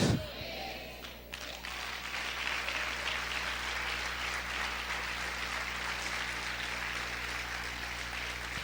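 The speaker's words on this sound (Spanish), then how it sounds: "Vamos a aplaudir fuerte al Señor" A church congregation applauds the Lord, with steady, continuous clapping filling the hall after a brief thump at the start.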